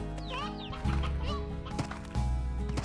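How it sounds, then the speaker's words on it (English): Chickens clucking in the video game Slime Rancher, a few short clucks and squawks in quick succession over steady game ambience, fairly close, with no talking. "there are chickens now coming in, that's great"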